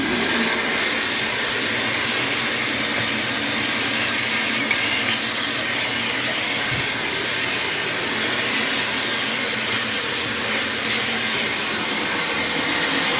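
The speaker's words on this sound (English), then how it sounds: "That vacuum has 2 filters on it" A vacuum cleaner runs continuously with a loud, steady whooshing roar and hiss, unchanging throughout, with no voices.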